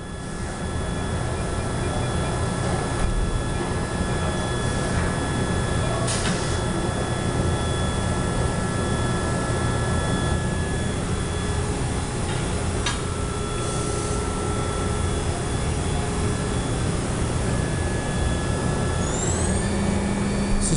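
The spindle of a 2011 Okuma MB-5000H machining center runs at 12,000 RPM, making a steady, close high-pitched whine over a dense mechanical hum, with occasional faint clicks.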